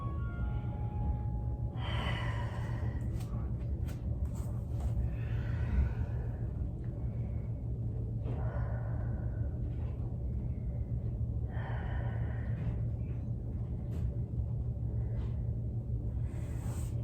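Slow breathing during a Pilates cool-down with weights: soft, spaced inhales and exhales at close range over a low steady room hum, with no talking.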